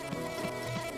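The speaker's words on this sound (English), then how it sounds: "You guys like the bee sound?" Buzzing bee effect from the Mr Bean video game: a steady insect drone laid over looping game music, with soft repeating pulses and nobody talking.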